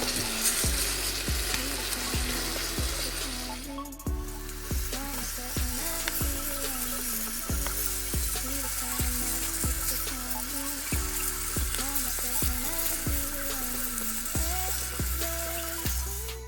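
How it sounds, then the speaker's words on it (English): Beef short ribs browning in a hot pan over medium heat give a steady loud sizzle and fry, with rhythmic scrapes and clanks of a utensil stirring against the pan throughout; background music plays along. "After we're done browning the beef"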